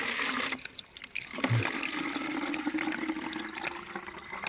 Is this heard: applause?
no